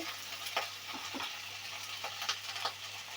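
Flat beans sizzle gently in a pan, with soft, intermittent stirring scrapes over a steady low frying hiss, fairly quiet and close.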